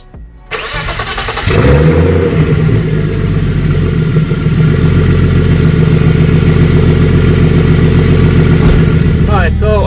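A BMW E36 engine cranks briefly, catches and settles into a loud, steady idle close by, running on without pause to the end.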